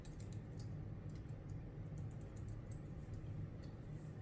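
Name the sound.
typing an answer on a computer keyboard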